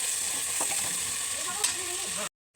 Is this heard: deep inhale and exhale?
no